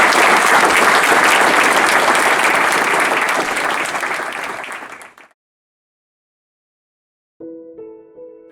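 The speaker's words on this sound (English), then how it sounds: "Let's clap it up for our seniors." Loud, dense applause from a crowd honoring high school seniors at a homecoming event, sustained for about five seconds before fading out, then a brief silence and a faint tonal sound at the end.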